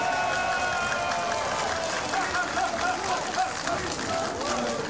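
A large crowd at a presidential campaign rally for Moon Jae-in in Jeonju applauds and murmurs. The clapping and cheering form a steady, moderately distant wash, mixed with voices and chatter throughout.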